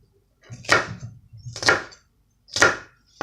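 Vegetables being chopped into squares on a board for vegetable fried rice: three separate bursts of close knife strokes, each a quick cluster of thuds, with short pauses between.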